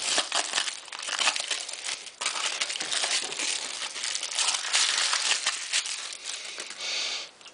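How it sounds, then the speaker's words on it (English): Aluminium foil is pulled off a hot casserole dish with loud, close crinkling and crumpling, in bursts that run on for several seconds, and no one speaks. "And then I'll just remove the foil, and that's how the casserole looks."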